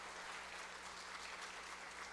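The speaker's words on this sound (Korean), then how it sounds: "우리 다시 한번 크게 박수합니다" A church congregation claps together in steady, sustained applause, a dense even patter filling the room without pause.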